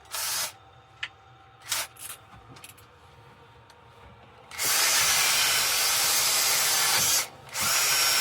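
A power sander running on an apple wood round-bottom bowl with 120 grit paper: scattered short bursts at first, then a loud, steady whine for several seconds with one brief pause before it resumes.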